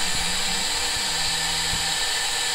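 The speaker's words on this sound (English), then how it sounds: "Say I start this, I start the spindle, it starts running," A CNC spindle runs during a cutting job, giving a steady, loud, broadband whir with a few low thumps and knocks mixed in.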